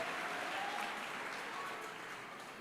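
A church congregation applauding during a sermon, a dense even patter of many hands clapping at moderate distance that slowly tapers, with no one speaking.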